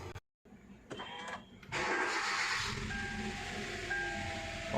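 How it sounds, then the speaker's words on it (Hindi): A Hyundai Verna with a misfiring cylinder is started up close. A few brief clicks come first, then the engine catches and settles into a steady idle hum. "अभी गाड़ी को करते हैं स्टार्ट।"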